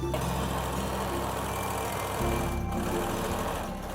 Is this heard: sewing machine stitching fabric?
yes